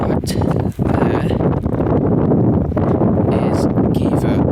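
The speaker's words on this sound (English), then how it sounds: "It is extremely windy up here" Strong wind buffets the microphone on an exposed Cornish clifftop near Geevor and Levant tin mines, a loud continuous roar with gusting rushes and brief dips, no voices.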